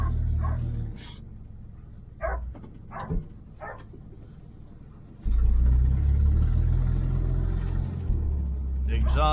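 A 1978 Chevy Nova idles and revs with a bad exhaust, a low rough rumble that swells louder partway through, while a dog barks and people talk nearby.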